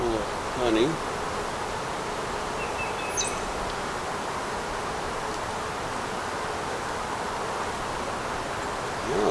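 Honey bees hum around a swarm trap hive in a dense, continuous buzz for the whole stretch, with a few louder individual bees passing near and brief faint voice sounds.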